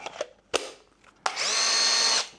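A few clicks and knocks, then a 21-volt cordless hammer drill whirs steadily at close range for about a second before stopping.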